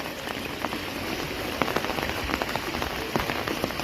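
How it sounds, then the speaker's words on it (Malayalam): Heavy monsoon rain pours steadily onto surfaces during flooding, a dense continuous patter with sharper drops popping through, close and fairly loud with no voices. "ഈ മഴ ഇങ്ങനെ നിന്നാൽ വലിയ പെട്ടെന്ന് വെള്ളം കയറും"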